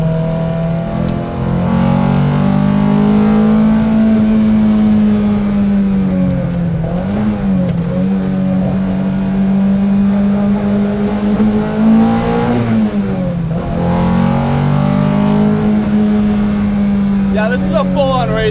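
A 1969 Datsun 510 race car engine howls loudly as it revs high, rising and dipping in pitch through two clear lifts around the middle and end, with no voices over it.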